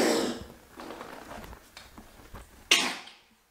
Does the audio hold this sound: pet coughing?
yes